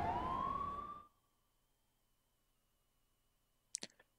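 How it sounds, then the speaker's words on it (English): A police siren in the video game Persona 5 wails briefly, rising in pitch before cutting out, followed by silence and a few faint clicks. "I hear police sirens."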